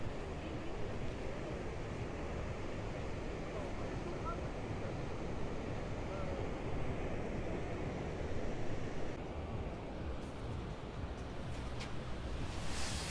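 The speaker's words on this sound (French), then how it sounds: "la plage est grande ici, les vagues sont pas trop fortes" Waves break steadily on a wide beach at low tide in El Médano, Tenerife, a continuous rushing wash of surf mixed with gusty wind buffeting the microphone throughout.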